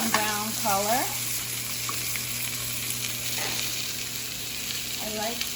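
Halibut fillet frying in a hot pan just after being flipped, a steady close sizzle running throughout, with a voice talking briefly over it at the start and near the end.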